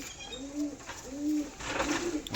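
A pigeon coos softly three times in an even rhythm, close by, over faint background noise.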